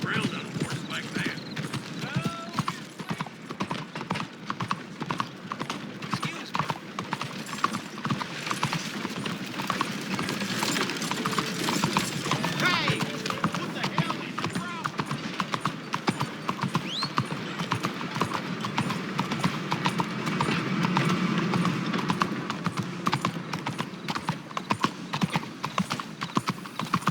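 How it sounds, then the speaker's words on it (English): Horse hooves clip-clopping steadily at a riding pace in Red Dead Redemption 2, a continuous close rhythmic beat running the whole time with occasional voices over it. "must cover some ground on a horse like that"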